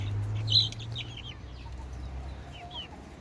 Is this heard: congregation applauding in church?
no